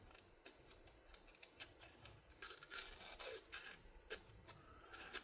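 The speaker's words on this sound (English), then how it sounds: "Needed a quick little strop." A Kizer Torngat knife blade being stropped produces soft, close scraping and brushing strokes in an uneven rhythm, quiet overall, with a denser rasping stretch midway.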